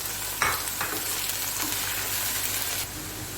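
Beef keema fries in a pan for bhuna, a steady loud sizzle with a few stirring scrapes, no talk.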